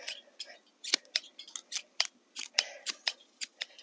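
Garden shears trimming back a white Whirlwind Scaevola plant, with a steady series of crisp, close snips at roughly even intervals, around a dozen cuts.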